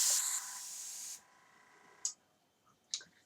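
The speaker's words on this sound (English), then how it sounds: "what you're hearing is also just me pressing the air on the airbrush" Airbrush hissing with compressed air from a compressor, a steady spray for about a second that cuts off, followed by a couple of short sharp bursts of air.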